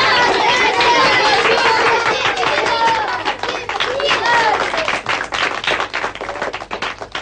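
An audience in a 1963 Soviet drama breaks into dense, loud applause, a steady wash of many hands clapping mixed with crowd chatter and voices, thinning slightly toward the end.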